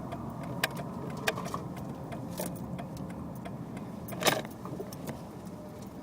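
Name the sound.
car driving down the road, heard from inside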